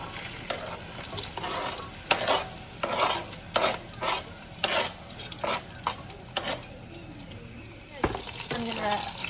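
Pot roast and onions searing in a pan over low heat, a steady crackling sizzle with bursts of stirring and scraping, close and moderately loud, pops scattered throughout.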